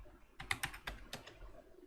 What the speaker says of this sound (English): just type the password.